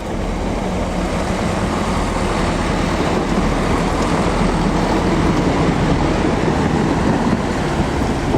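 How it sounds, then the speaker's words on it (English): A CrossCountry train passing through Cambridge station, a constant loud rumble and rolling roar of wheels on rail that holds steady for the whole stretch, with no voices. "Over there we've got a cross-country service from Stansted Airport to Birmingham New Street."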